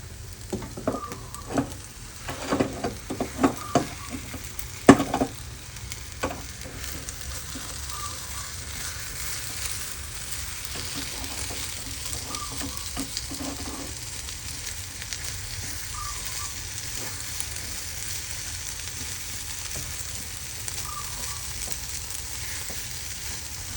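An omelette sizzles softly in a hot oiled pan with a few clacks of a utensil early on, then a steady low frying crackle continues alone.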